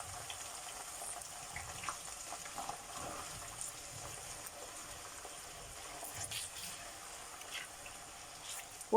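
Sliced potato chips frying in a pot of hot oil at home, a steady soft bubbling sizzle with faint crackles and spatters that holds at a low, even level throughout.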